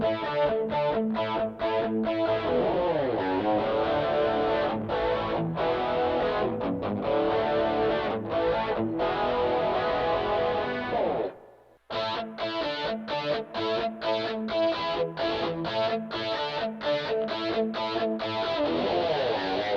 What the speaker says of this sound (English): The heavy distortion channel.